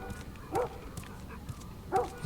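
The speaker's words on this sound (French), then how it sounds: "Le chien qui doit aboyer dehors, là." A dog barks outdoors in The Last of Us Remastered, two short, muffled barks about a second and a half apart, faint and distant over low ambient game noise.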